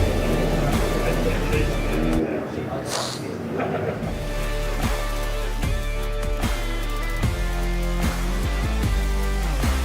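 Ford Fiesta ST240 race cars run on the Silverstone National circuit during a race weekend, their engines droning steadily beneath continuous commentator talk.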